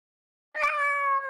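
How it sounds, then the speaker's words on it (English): A single drawn-out meow from a female house cat, close and fairly loud, starting after a brief silence and holding steady for under a second. "I tried to get her to meow"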